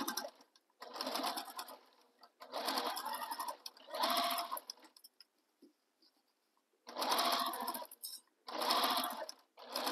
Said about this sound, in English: I'm going to stitch this in place using the seam allowance given in the pattern